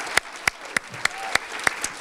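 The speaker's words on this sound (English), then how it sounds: "let's give him the biggest applause we have ever gave to anyone" Applause at a retirement open house at Muskegon Community College comes as seven sharp, evenly spaced claps, close and clear over a quiet room.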